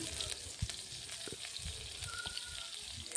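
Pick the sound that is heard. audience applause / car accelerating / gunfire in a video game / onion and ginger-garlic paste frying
onion and ginger-garlic paste frying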